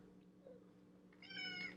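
A house cat gives a single soft meow toward the end, rising out of a quiet room with a faint low hum beneath it.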